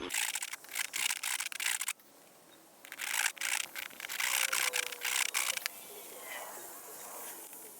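A metal file rasps in short repeated strokes over a burr next to a slot on a John Deere 110 headlight part, the bursts broken by brief pauses and quieter scraping.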